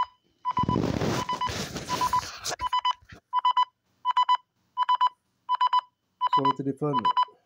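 A phone gives a series of short electronic beep bursts, evenly spaced and close, as a cheap smartwatch locates it, after some rustling handling noise at the start.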